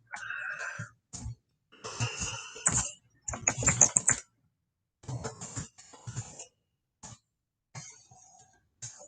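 Typing on a computer keyboard, rendered as irregular bursts of key clatter separated by short pauses, close and moderately loud, with no voices.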